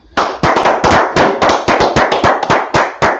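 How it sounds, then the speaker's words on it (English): A group clapping hands together at a religious brotherhood gathering, a loud, fairly steady run of about a dozen sharp claps, close and with no talk over them. "let's clap it up"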